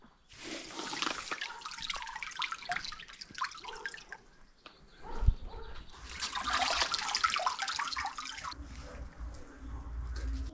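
Water poured from small bottles into hydroponic tubs of tobacco seedlings, two bursts of splashing, gurgling pouring separated by a brief pause, close by, with a dull knock in the middle.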